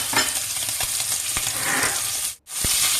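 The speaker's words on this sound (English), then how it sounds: "So we're going to stir fry it for at least 30 seconds." Spicy beef with carrots stir-fried in a hot pan gives a steady close sizzle, with a few scraping clinks of a utensil against the pan and a brief drop to near silence before the frying resumes.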